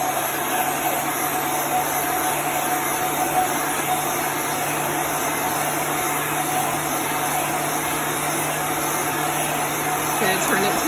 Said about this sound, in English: I'm gonna use my heat gun.